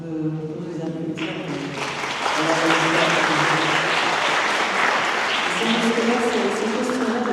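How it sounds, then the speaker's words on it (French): Audience applause at a public event marking the World Day against Trafficking in Persons, a dense wash of clapping that swells louder after a couple of seconds and holds steady, with a voice speaking over it at the start and again near the end. "je pense qu'on peut vous applaudir."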